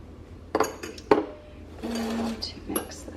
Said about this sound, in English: put it in a bowl and mix it together